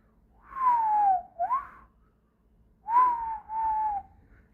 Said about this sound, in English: I could whistle loud, bro.